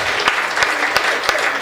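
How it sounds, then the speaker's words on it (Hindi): A comedy show audience applauds steadily, a dense patter of clapping from the crowd with a few sharper claps standing out over roughly two seconds. "ताली इसके लिए बजा दो"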